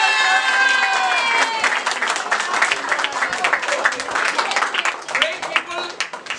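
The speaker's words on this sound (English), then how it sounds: "Round of applause for Miss Sibsa as well." Audience applause and cheering at a celebration, clapping loud and close at first and then thinning into scattered claps, with voices and talk mixed in throughout.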